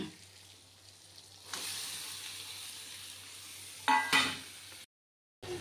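Meat dropped into a pan of fried spices, starting with a quiet background and then a sudden sizzle that holds steady, with a brief louder clatter of stirring before a short break and more frying.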